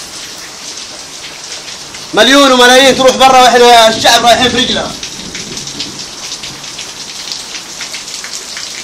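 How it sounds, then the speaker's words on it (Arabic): Heavy rain pours steadily outside, a dense hiss that runs throughout under a man's loud speech in the middle section, and it continues alone once he stops. "الحين مطر كأني في الشارع"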